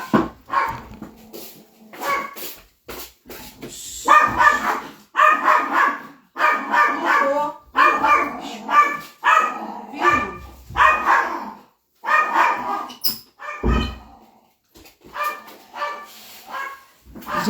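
Several dogs bark and scuffle in a frantic tangle of yaps and growls, close and loud, with bursts of short barks, whimpers and pauses throughout.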